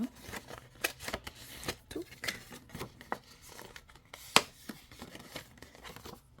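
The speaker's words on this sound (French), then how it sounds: "Comme les plis ont été faits en amont, ça se plie vraiment rapidement en quelques secondes et ça nous fait des plis propres" Pre-creased paper box template folded by hand: quick crisp paper creases and crinkles in a rapid irregular series, close and fairly quiet, one sharper snap near the end, no voices.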